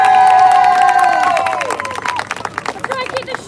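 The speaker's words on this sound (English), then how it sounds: "Round of applause for Esme." A crowd at a women's rally cheers with loud whoops that slide downward and fade, followed by scattered clapping and shouts.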